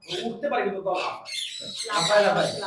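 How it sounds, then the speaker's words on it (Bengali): Harsh, piercing lory parrot squawks burst out close by at a bird market in Mirpur 1, mixed with people talking throughout. "এগুলো সম্ভবত আপনার লরি প্রজাতি পাখি"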